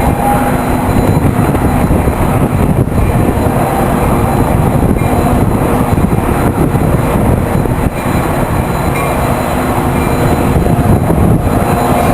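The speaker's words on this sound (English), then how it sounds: "The train will take on additional passengers here before beginning the westbound run to Los Angeles." A loud, steady rumble of a passenger train idling close by at San Bernardino station, with constant low mechanical drone and faint hiss, no talking.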